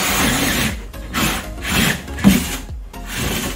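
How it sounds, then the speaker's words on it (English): A drill bores through the wall of a plastic tote, producing repeated rough, grinding rasps in short bursts with brief pauses between them, close and fairly loud. "Applying pressure with the drill and slight upwards pressure, pulling the plastic toward the drill bit."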